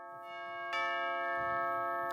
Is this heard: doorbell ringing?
yes